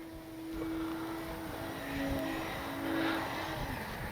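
An E-flite D-18 (RC 45J) twin-engine radio-controlled model airplane in flight, giving a steady droning motor whine that swells and fades slightly as it passes, under faint outdoor wind.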